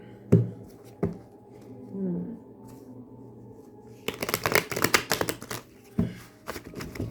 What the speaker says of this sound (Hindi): थोड़ा और शफल कर लेते हैं अच्छे से और देखते हैं क्या कार्ड्स भी यही कहते हैं